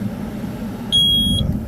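Condensate float switch alarm on a sewer main, a single steady electronic beep lasting about half a second, loud and clear over a low room hum.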